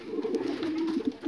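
Breeding pigeons give a low, throaty, rolling coo close by. Each call rises and falls in soft pulses and carries on steadily, alone, without speech.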